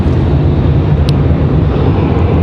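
Southwest Airlines jet on final approach to Raleigh-Durham airport, a steady broadband rumble of jet engine noise, fairly loud and continuous with no voices.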